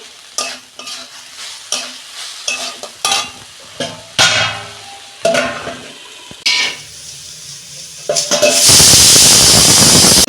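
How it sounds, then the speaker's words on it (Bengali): A spoon stirs banana stem with prawns in a frying pan, making repeated loud scraping strokes over a sizzling sound. The strokes come roughly every second and end in a sustained, loud burst of frying sizzle. "দু মিনিট নেড়ে চেড়ে আমি ঢাকা দেবো"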